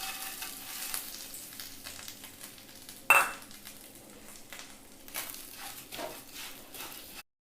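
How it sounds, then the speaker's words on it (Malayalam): Flattened rice (aval) fries in ghee in a pan with a steady soft sizzle, broken by scraping stirs and a sharp clatter midway, close and with no talking. "നമുക്കിതിലേക്ക് നമ്മൾ അവലൊന്ന് വറുത്തെടുക്കാം"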